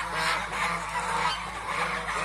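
A flock of domestic geese honks in a dense, continuous overlapping chorus, loud and close throughout with no pauses.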